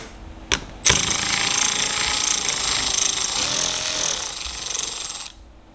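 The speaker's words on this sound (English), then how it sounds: "It's just held on by an 8mm screw. Just go ahead and remove it." A power tool removes an 8mm screw holding a guide on a BMW G30 bumper, a sharp click followed by a loud steady whirring buzz for about four seconds before stopping abruptly.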